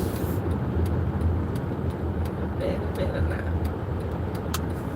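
Car interior while driving home from the store, a steady low road rumble and engine hum running throughout beneath someone talking, with faint ticking clicks.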